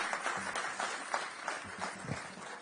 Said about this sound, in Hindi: एक बार जोरदार तालियां इन त्रिशक्ति को।